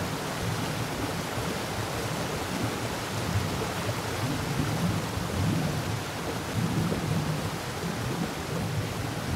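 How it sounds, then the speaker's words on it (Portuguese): Steady, dense rain hiss with a low rumbling undertone like distant thunder, continuous and even throughout, no voices. "agora vamos ficar quietinhas que lá vem mais chuva"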